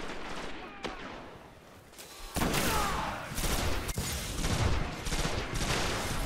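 Rapid bursts of energy-weapon fire from fusion rifles crackle through a chaotic Destiny Crucible multiplayer match on PS4, with sharp discharges and a sudden loud volley midway, close and dense over constant game noise.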